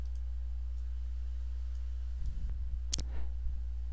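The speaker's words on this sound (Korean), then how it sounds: "라이트 클릭, 종료." A single computer mouse click from a right-click during CAD work in Inventor, a short sharp tick over a faint steady hum with a soft rustle just before it.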